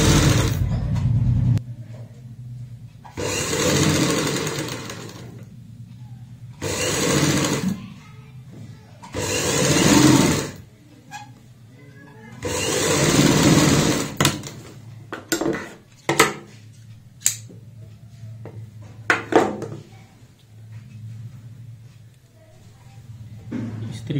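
A sewing machine stitches piping onto a sleeve in several loud, steady runs of rapid clatter, separated by pauses filled with handling clicks and knocks.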